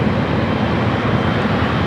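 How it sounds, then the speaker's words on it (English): A Boeing 777-300ER airliner bound for Manila on its takeoff run at LAX gives a loud, steady, broadband jet-engine roar with a deep rumble, heard continuously from fairly close by. "Philippine Flight 113 heading to Manila, 777 at 300ER up next for takeoff"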